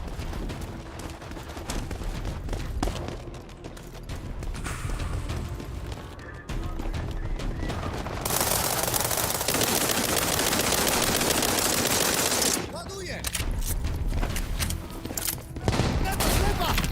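A battle rifle fires in a modern-era war video game. Dense, loud bursts of gunfire and a heavy roar of fire and crashes fill the scene, with a voice speaking intermittently.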